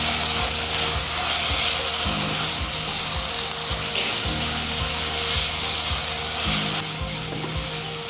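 Chilli, coriander and turmeric powders are stirred into a hot, sizzling pan for paneer do pyaza curry. A loud, continuous frying hiss runs under rhythmic scraping strokes of the spoon against the pan, with no voices.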